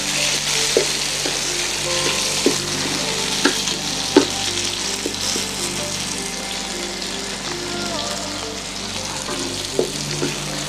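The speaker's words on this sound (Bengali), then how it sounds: "পেঁয়াজটা ব্রাউন কালার হওয়া পর্যন্ত অপেক্ষা করব নেড়ে চেড়ে" Onions frying in a pan for a shrimp and sweet pumpkin dish, a steady close sizzle with scattered clinks and scrapes of stirring, with no talk.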